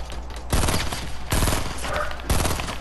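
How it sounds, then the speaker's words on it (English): Loud bursts of Fortnite gunfire, three heavy rapid volleys about a second apart, each a dense rattle of shots ringing close and overpowering everything else. "I'm shooting at him."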